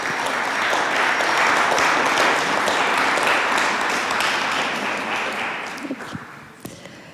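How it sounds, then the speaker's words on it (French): An audience at a talk on prison life applauds, loud and sustained clapping from a crowd that gradually thins and fades toward the end, leaving a few scattered claps. "Je pense qu'on peut déjà applaudir."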